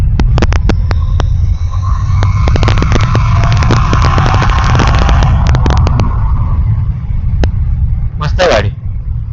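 A motorcycle engine runs steadily just after being started, a continuous low rumble overlaid with sharp ticking clicks, and a brief burst of noise near the end.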